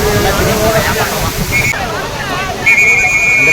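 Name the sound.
flash flood water rushing at Old Courtallam falls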